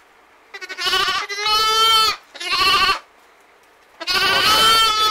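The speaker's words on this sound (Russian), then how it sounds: "Вот два ягненка таких, они искусственники." Two bottle-fed Romanov sheep lambs bleat close by in loud, wavering cries, four calls in a row separated by short pauses.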